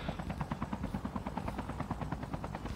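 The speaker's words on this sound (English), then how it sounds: "you could get in the helicopter at any time here" Helicopter in a video game, a steady rapid rotor thumping heard at moderate level throughout, with faint gunfire-like cracks mixed in and no talking.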